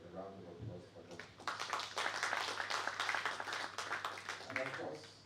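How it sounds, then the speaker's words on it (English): Applause for the organizers at an African conference on One Health and biosecurity, a broad wash of many hands clapping from a seated audience that swells and then fades. "A round of applause for them."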